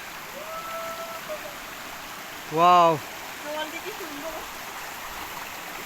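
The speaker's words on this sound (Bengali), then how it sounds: "এখানেও একটি ঝর্ণা আছে।" A small waterfall stream in the hills of Bandarban flows with a steady broadband rush throughout, while a brief exclamation and other voices rise over the water.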